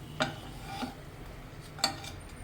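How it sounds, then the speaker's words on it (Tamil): Nool parotta on a hot griddle is flipped side to side, with three sharp clinks of the turner against the pan over a faint, steady fry. "இப்படி அந்த பக்கம் இந்த பக்கம் 2 சைடு திருப்பி திருப்பி போட்டு நல்லா ஃப்ரை ஆகட்டும்"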